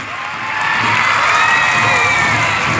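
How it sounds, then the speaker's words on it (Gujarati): A crowd at a Republic Day school celebration cheers and applauds for student horse riders, a loud sustained roar of clapping, shouts and whoops from many people, including children, swelling after the first half second. "જોરદાર તાળીઓથી આપણે એમને વધાવી લઈશું."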